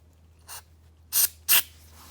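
Three short hissing bursts from an aerosol spray can aimed at an EGR valve on a 2000 Ford Focus ZX3 Zetec 2.0, one faint then two louder, separated by quiet pauses against a low hum.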